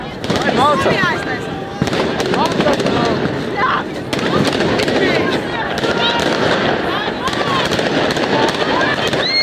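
Dense crackling and popping bursts of New Year's fireworks going off continuously at the Brandenburg Gate in Berlin, with voices talking and shouting over the din throughout.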